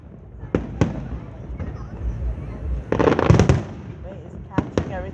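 Fourth of July fireworks going off outdoors: scattered sharp pops, then a dense volley of crackling bursts, then a few more isolated bangs, with people chatting throughout.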